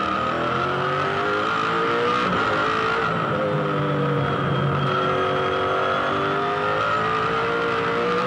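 V8 Supercars race at Darwin in 2007, an engine roaring loudly from close by with shifting revs and a continuous blare throughout, no voices over it.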